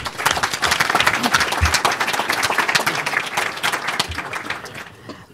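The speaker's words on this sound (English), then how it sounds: "please give her a round of applause" Audience applause rings out for a congresswoman at a 2020 congressional breakfast, sustained dense clapping from a crowd that carries steadily for about five seconds before tapering off at the end.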